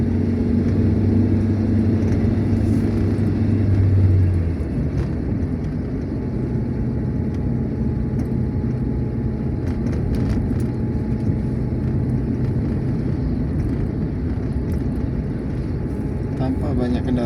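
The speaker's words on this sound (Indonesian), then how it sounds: "Tampak banyak kendaraan besar sudah mulai melintas di Jalan Lintas Timur ini teman-teman." Steady, loud engine rumble and road roar as large trucks and other heavy vehicles pass continuously on the Jalan Lintas Timur highway near Menggala, with a deep drone fading after a few seconds beneath the ongoing traffic noise.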